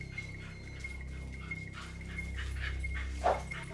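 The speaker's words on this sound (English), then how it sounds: "the dogs would squabble and they would get excited and they would bark" Several pet dogs barking and whimpering at a house door, a mix of short barks and yips, some near and some farther off, with one sharper, louder bark toward the end.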